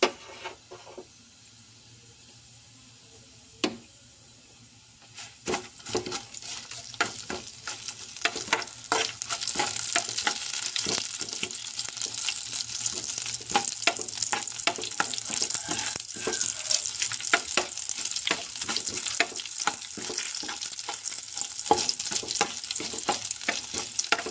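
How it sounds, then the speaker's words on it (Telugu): Oil crackles and sizzles steadily as spices and dried chilies fry, starting quietly then building into dense, continuous popping with sharp spits throughout. "ఇప్పుడైతే పోపులు, ఎండుమిర్చి అయితే వేసుకుందాం"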